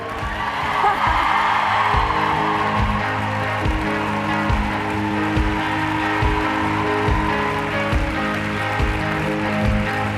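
Large crowd of about 4,000 women at a beauty company summit applauding, a dense sustained wash of clapping filling the whole stretch at steady loudness, with faint voices mixed in.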